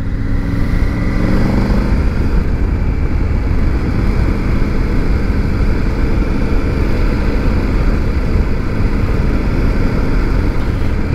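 A Triumph Tiger 900 GT cruising in fifth gear below 2000 rpm, its engine a steady, loud, low rumble mixed with wind rush, continuous and unbroken with no voices.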